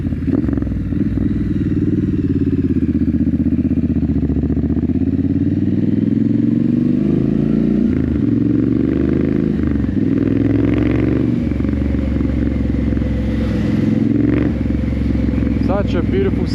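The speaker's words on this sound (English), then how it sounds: "Such a beautiful sounding bike." A Triumph Scrambler 900 motorcycle rides through dark streets at night, its engine a steady, loud rumble throughout with shifting revs and wind noise, while a rider talks over it.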